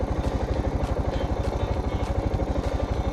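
Suzuki DR 650 motorcycle with a slightly off carburettor runs close by, its single-cylinder engine thumping in a fast, even pulse with mechanical clatter and occasional revs.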